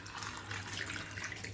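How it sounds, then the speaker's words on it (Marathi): Water pours steadily into a kadhai holding clams, a close, even splashing gush that runs for a couple of seconds without pause. "आता त्याच्यामध्ये आपल्याला पाणी घालायचं आहे."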